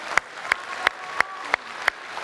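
An audience at a televised Indonesian presidential debate between Jokowi and Prabowo claps in unison, seven sharp, evenly spaced beats about a third of a second apart over a faint background murmur of the hall.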